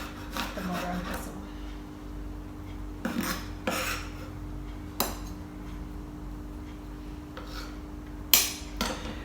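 Garlic and salt are pounded in a mortar and pestle, giving several sharp knocks spread irregularly between quieter grinding scrapes, with one loud strike near the end. The sounds are close and carry no talk.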